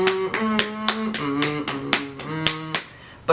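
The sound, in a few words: hand clapping imitating the rhythm of a jazz tune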